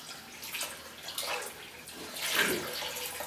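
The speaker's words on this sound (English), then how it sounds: "We're going to add another quart of water to this." Water pouring steadily from a container into a bowl of bread dough, a broad splashing wash that rises and swells toward the end, close and fairly quiet with no talking.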